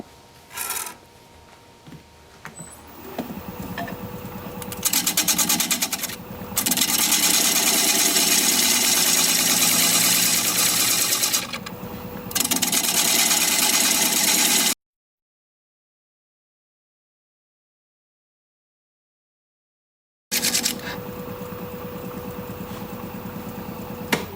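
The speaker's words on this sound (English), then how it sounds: "So I'm going to switch to a 1/2 or 5/8 standard grind bowl gouge." Wood lathe turning a square-cornered bowl as a bowl gouge cuts, a steady hum under loud rasping scraping in long stretches, broken by brief pauses and a stretch of silence.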